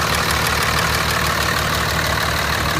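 A 2004 Dodge Ram diesel engine runs steadily with the oil filler open, a loud, close, even diesel clatter with a low rhythmic throb that continues unbroken.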